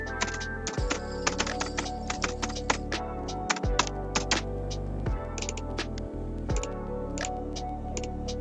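Typing on a computer keyboard during a Canva design tutorial, a steady stream of close, clicky keystrokes in quick irregular bursts over a low background hum.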